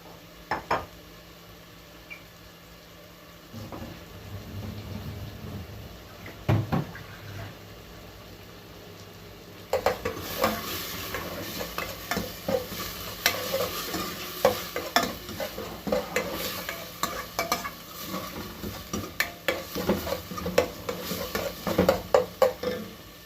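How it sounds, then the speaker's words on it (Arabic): Seafood being sautéed with garlic in a pan, with a quiet start and then a louder, continuous sizzle from about ten seconds on, broken by frequent clattering stirs and utensil scrapes against the pan. "هحط ايه الفواكه البحريه دي تتشوح بقى في ريحه التوم دي"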